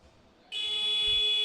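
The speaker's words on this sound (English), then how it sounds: "And then the buzzer goes." Basketball arena buzzer sounding at an NBL Division One game between Manchester Magic and Derby Trailblazers, a loud sustained electronic tone that starts abruptly and holds steadily under faint arena background.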